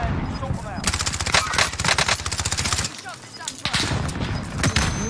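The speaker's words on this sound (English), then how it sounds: "He's shooting at him." Rapid bursts of video game gunfire, mixing machine-gun strings and single shots, crackle loudly through a firefight while players talk over the shooting.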